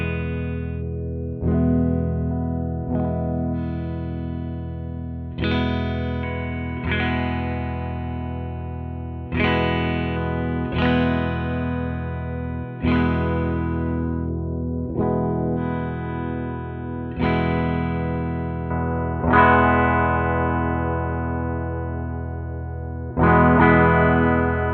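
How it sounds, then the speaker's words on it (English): An inexpensive $150 electric guitar with its tone control rolled off, playing a series of strummed chords with a mellow, muffled, slightly effected tone, each ringing out before the next, alone without talking. "let's kind of hear maybe the tone roll off"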